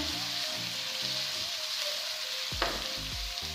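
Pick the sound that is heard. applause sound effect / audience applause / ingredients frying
ingredients frying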